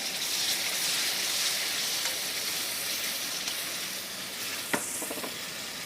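Chili powder and tomato puree sizzle and fry in hot oil, a steady loud crackling hiss throughout with a brief stir scrape near the end and no talking.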